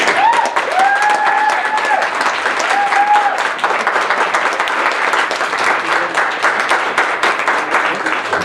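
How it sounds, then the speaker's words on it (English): Loud, dense applause fills the room for poet Sierra at a college poetry slam, with a few whoops and cheers rising early over the sustained clapping. "Another big round of applause for Sierra."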